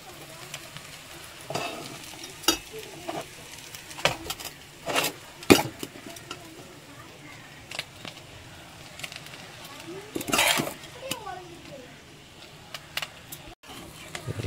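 Cooked rice for homemade prawn fried rice is stir-fried in a pan, giving scattered scraping and clinking strokes over a faint sizzle and a few louder spatula knocks.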